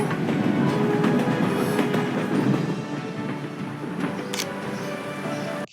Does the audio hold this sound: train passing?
yes